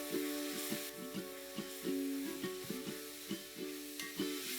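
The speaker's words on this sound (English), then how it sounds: "Let's add 4 finely chopped onions to this and fry them till they are golden." Finely chopped onions fry in melted butter and hot oil with a soft, steady sizzle. Regular stirring scrapes and knocks repeat over a low tonal hum, close but fairly quiet, with no voices.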